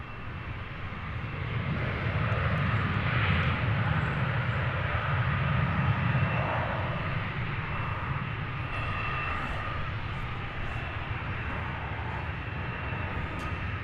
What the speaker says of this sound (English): another plane is coming in for a landing